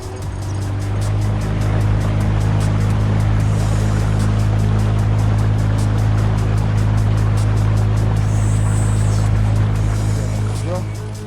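A boat motors across a flooded taiga river toward a small island, its engine a loud, steady drone with water rushing alongside throughout, and voices talking over it.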